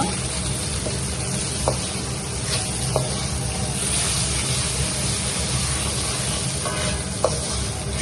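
Food seasoned with salt being stirred in a frying pan: a dense, continuous sizzle with occasional light clicks and scrapes of a utensil against the pan.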